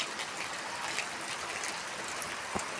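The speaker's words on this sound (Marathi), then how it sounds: "आज आमच्या इथे पाऊस पडतोय" Rain falling outdoors after a long dry spell, a soft, faint, steady wash of patter with small scattered drips and no voices.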